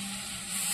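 Water poured into okra curry in a hot pan, a brief soft hiss and sizzle that swells slightly toward the end.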